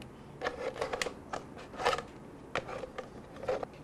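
Scissors snipping through material nearby, a series of quick, crisp cuts in uneven clusters, soft and close with no talking.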